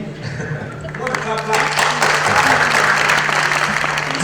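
Audience applause at a music summit with entrepreneurs from the African music industry, starting sparse, then swelling into steady loud clapping from a large crowd, with speech overlapping.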